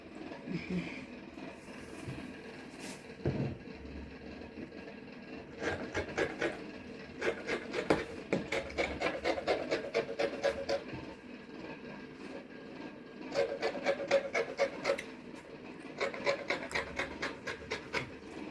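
Fabric for a gown is trimmed up close, giving quiet bursts of rapid, rhythmic rasping and snipping in several runs separated by brief pauses.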